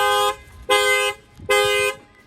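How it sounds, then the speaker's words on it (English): A 2023 Lexus IS350 factory alarm sounds after someone bangs on the window: three loud, harsh electronic horn-like blasts, each about a third to half a second long, evenly spaced with short gaps between them. "That sets off the alarm."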